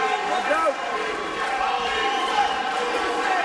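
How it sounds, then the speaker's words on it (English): Boxing arena crowd at a professional fight shouting and urging a fighter on, a dense, continuous roar of many voices with rising yells, steady and loud throughout. "Crowd imploring Pawel Wolak to do something before it's too late"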